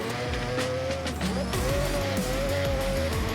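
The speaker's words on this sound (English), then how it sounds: "That Supra sounds awesome." A Toyota Supra in Forza Horizon 6 revs loud and close with a steady, rising engine note, a brief dip and shift partway through, then a sustained drone to the end.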